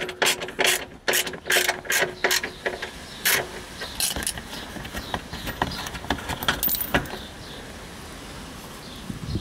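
Repeated ratchet clicks as screws are undone beneath a VW Golf 7 during an oil change, a quick burst of sharp pawl clatter followed by sparser, fainter clicks and scattered small mechanical taps, close and with no talking.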